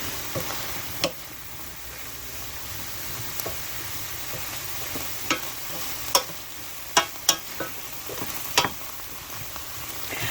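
Eight ounces of mushrooms cook down in a skillet, giving a steady soft sizzle with a few sharp clicks and taps of a utensil scraping the pan.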